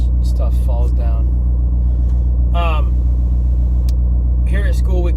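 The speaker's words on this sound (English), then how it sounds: "the little 4-cylinder TDIs make a little rumble" The four-cylinder TDI diesel engine of a worn 2003 Volkswagen Jetta makes a deep, steady low rumble that runs constantly beneath short bursts of a person talking.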